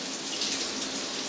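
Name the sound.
water trickling from basin tap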